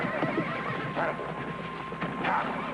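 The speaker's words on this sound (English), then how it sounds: "I've got myself a wild horse." A wild horse whinnies in short bursts, fairly close, over a steady background rumble with no talking.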